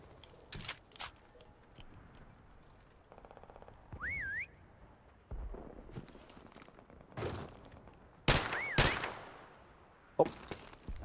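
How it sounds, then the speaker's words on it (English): Prop whistle in Call of Duty MWR Prop Hunt, two short rising-and-wavering whistle tones, clear and distinct, amid sporadic gunshots, footsteps and clatter of the match. "Whistle."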